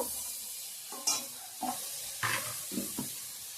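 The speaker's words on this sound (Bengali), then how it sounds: "ভালো করে ভাজা ভাজা করে নেবো" Potato and cauliflower fry in a pan with dried shrimp and ground spices, a steady soft sizzle under several scraping stirs of a spatula, fairly close and moderately quiet, with no talking.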